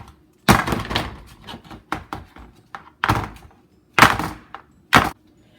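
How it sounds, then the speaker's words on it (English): Cake pans for a confetti birthday cake, greased with baking spray, banged against a kitchen counter, giving a series of sharp, loud thunks in irregular bursts with short rattling between them, no talking. "now we're going to shake them and bang them to get some of the air bubbles."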